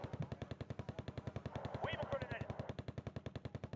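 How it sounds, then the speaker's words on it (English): Rapid, steady bursts of .50 cal machine gun fire in a French Marines video game battle, dozens of evenly spaced shots over a few seconds with a brief fainter sound layered in the middle. "The 50 cal shooting at us as well."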